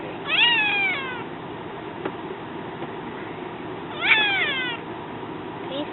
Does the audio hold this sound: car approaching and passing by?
no